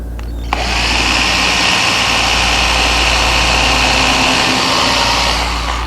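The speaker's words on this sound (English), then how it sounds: "just a little pre-drill here" Close and loud, an electric drill bores a small pilot hole for a nail in hardwood cupboard stock, the motor spinning up sharply and holding a steady high whine for about five seconds before easing off.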